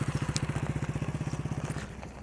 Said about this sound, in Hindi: तो इस तरह से बाइक चलती है सिंपली।